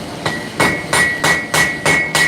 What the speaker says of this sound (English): I'm forging half on, half off.